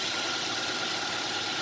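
A used car's engine idles smoothly at close range, a steady even hum with no talking over it.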